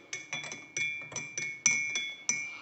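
A spoon clinks repeatedly against a glass of salt water while stirring, about a dozen bright, ringing taps in an uneven rhythm.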